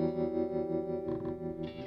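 Clean seven-string electric guitar tone run through Amplitube 4 amp simulation with a blended mic setup, sustained chord ringing with chorus-like shimmer and a few picked notes, fairly quiet and alone.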